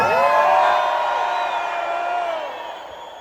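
Large crowd at a political event shouting and cheering in response, a loud sustained roar of many voices that swells early and slowly fades.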